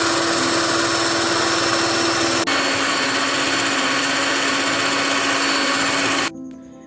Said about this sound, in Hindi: तो मेरे पास इलेक्ट्रिक बीटर है तो इसलिए मैं इसे इलेक्ट्रिक बीटर से बीट करूँगी।